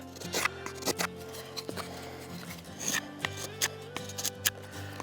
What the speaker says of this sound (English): Best way to tell the characteristics of a knife is just to carve with it for a little bit.